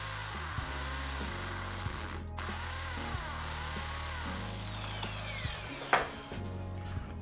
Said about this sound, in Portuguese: E para furar concreto, tem um lado aqui que tem um martelinho desenhado, tem que usar ele